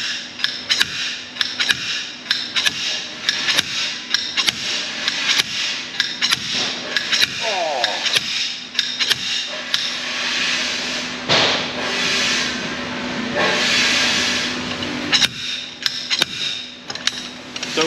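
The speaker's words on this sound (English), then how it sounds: "I'm gonna pull on the rod, and then I'm gonna operate the hammer feature. And it's gonna pull this axle out." A slide hammer works to pull a rear axle shaft from a 2002 Jeep Grand Cherokee WJ 4.7, giving repeated sharp metallic impacts in irregular bursts, loud and close, with scraping and clinking between strikes.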